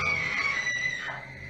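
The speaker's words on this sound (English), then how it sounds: "suddenly a woman's scream is heard" A woman screams in the early hours, a long high strained cry that wavers and fades, heard somewhat distant and alone in a quiet room.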